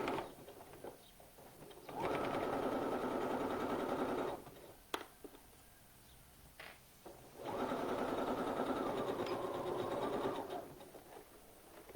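A sewing machine stitches shoulder seams on a top in two steady runs of a couple of seconds each, a close mechanical whir separated by quiet pauses with small clicks of handling.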